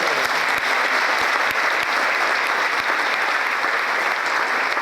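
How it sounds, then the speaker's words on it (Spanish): A crowd claps steadily and enthusiastically, dense applause holding at an even level throughout. "un aplauso por favor"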